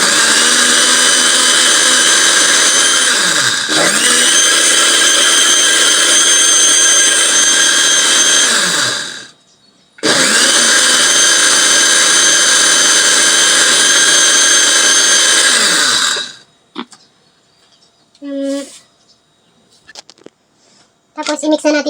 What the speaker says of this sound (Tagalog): Mga 5 piraso ang ating i-blender.